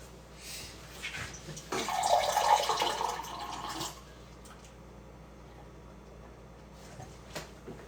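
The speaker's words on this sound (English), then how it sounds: "Let me get a glass of water real quick." Tap water runs for a couple of seconds into a glass, a steady close splash that swells then stops, leaving quiet room tone with a faint click afterward.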